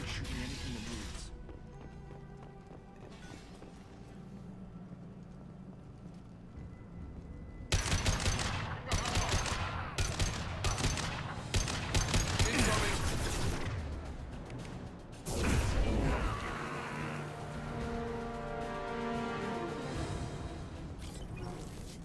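Gunfire from the video game Mass Effect 2, Blue Suns mercenaries shooting: quiet background sounds first, then loud bursts of automatic fire, impacts and crashes in dense, uneven volleys, with one heavy blast near the middle.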